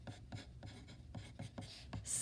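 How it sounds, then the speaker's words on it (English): Pencil or pen writing a single word in a sketchbook during an art lesson on value scales, a series of short scratchy strokes in quick rhythm, close and fairly quiet, with no talking. "I would like you to write in your sketchbooks the word value"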